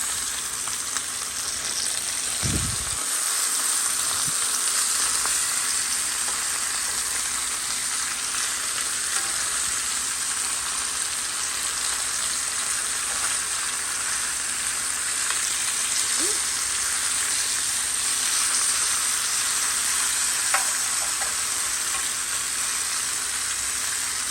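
Chicken thighs sizzle steadily in a stovetop grill pan, a loud continuous frying hiss with a few brief clatters near the start and no talking.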